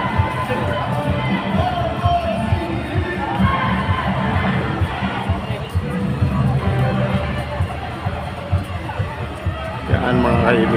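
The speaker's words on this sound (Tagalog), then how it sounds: "Yan ang sigaw ng ating mga kababayan dito sa Lunita." Large outdoor crowd at an anti-corruption grand rally in Luneta, shouting and cheering in a loud, surging roar of many voices with babble and chatter throughout.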